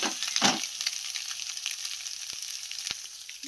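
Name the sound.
eggs frying in a pan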